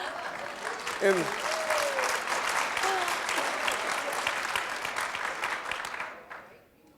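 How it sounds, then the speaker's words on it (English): An audience at a Women in Leadership event applauds steadily and fairly loudly, with someone talking and a few voices rising over the clapping before it thins and fades out near the end. "I'll keep clapping"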